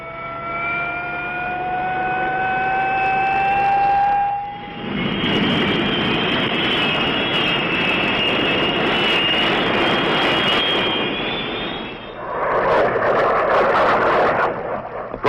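A 1967 Vietnam-era military jet roars overhead, a loud, sustained rushing engine noise that swells and holds for several seconds before shifting tone as it passes.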